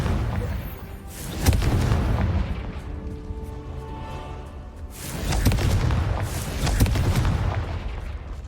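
A Confringo fire spell explodes against a giant spider in the Hogwarts Legacy video game: two heavy, booming blasts a few seconds apart, each followed by a rumbling tail.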